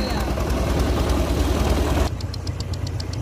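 A tractor engine runs steadily up close with a low mechanical drone, then shifts to a quieter idle with rhythmic ticking knocks; a voice may be faintly present underneath.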